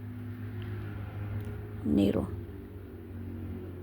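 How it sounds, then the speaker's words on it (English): Busy street traffic, a motor vehicle swelling past close by for a second or two, loud against a steady low road rumble, with a person talking over it. "Excuse the traffic."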